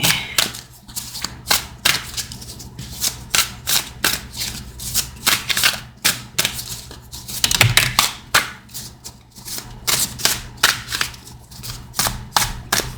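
Tarot cards shuffled by hand in a rapid, rhythmic stream of riffling taps and flutters, close and fairly loud, continuing steadily throughout.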